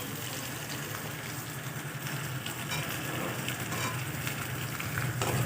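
Ingredients fry one after another in a pan, giving a dense, continuous sizzle with soft crackling that grows slightly louder toward the end, with no talking.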